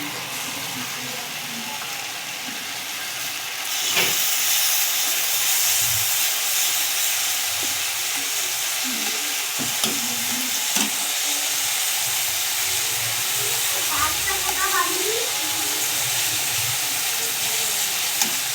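Ginger-garlic paste added to browned onions in a pan for biryani, heard as a sudden jump into loud, hissing sizzle that continues steadily, close and alone, with faint clinks along the way.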